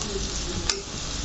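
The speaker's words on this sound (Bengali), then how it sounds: "এইভাবে কিছুক্ষণ আমি নাড়তে থাকবো।" Onions fry in a pan with a steady close sizzle and a single brief scrape of a stirring spoon partway through.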